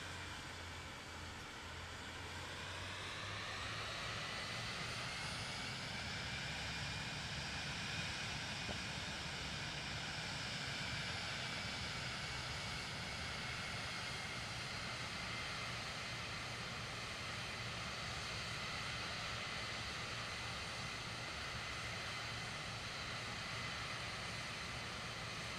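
Steady aircraft engine drone in a flight simulator game during approach with full flaps and landing gear lowering, a continuous mid-level hum with harmonic tones and a low rumble, sustained throughout with no talk.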